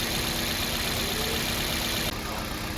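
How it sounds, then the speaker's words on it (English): A car engine idles with its camshaft position sensor disconnected, a steady, loud, continuous hum and drone filling the whole stretch with no talk. "because the crankshaft position sensor is still plugged in, the engine is still able to run"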